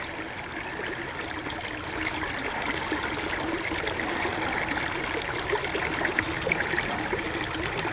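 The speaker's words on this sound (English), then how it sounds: "This is a creek." A small creek runs with a steady, close trickling and splashing babble of water that continues evenly without pause.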